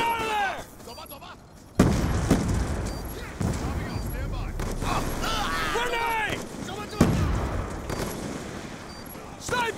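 Gunfire and explosions from a Call of Duty Black Ops 2 multiplayer match, with a loud grenade-like blast cutting in sharply near the start, then sustained battle noise and shouted voices over the top.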